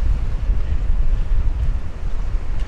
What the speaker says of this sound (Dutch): De zee komt op.